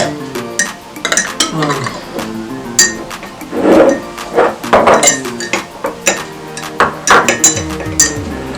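A spoon stirring hot turmeric tea with honey and butter in a cup, giving repeated close ringing clinks against the sides in an uneven rhythm, with faint background noise between strokes.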